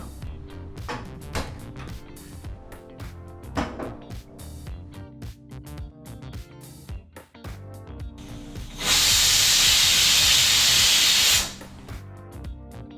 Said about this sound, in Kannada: ಈಗಿಲ್ಲಿ ಕುಕ್ಕರು 1 ವಿಸಲ್ ಬಂದಾಯಿತು.